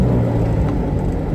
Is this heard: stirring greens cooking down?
no